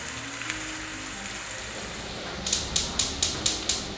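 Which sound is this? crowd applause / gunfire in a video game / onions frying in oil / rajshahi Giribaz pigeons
onions frying in oil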